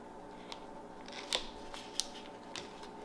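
A knife slicing through a stick of butter, with a few soft, crisp cuts and sharp taps that land close and fairly quiet over about three seconds, and no voices.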